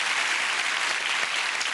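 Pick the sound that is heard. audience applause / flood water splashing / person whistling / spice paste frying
audience applause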